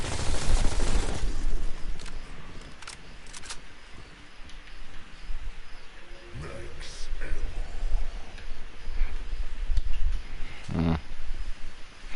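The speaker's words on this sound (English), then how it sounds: "Little more than a rapid fire pistol." Rapid-fire pistol in a zombies shooter game: quick bursts of sharp shots rattling in fast runs, loud and near, separated by brief pauses, with a voice talking during the firing.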